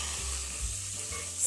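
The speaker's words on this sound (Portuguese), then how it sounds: "O franguinho está fritando, ó." Chicken seasoned with salt and garlic fries in a pan for a Brazilian bobó de frango, giving a steady, close sizzle and hiss that continues unbroken, with no talking.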